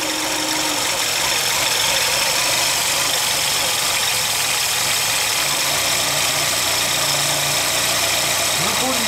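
A car engine runs after a carburetor adjustment, holding a steady, rough idle with a constant mechanical drone and faint knocking for the whole stretch, close up and fairly loud.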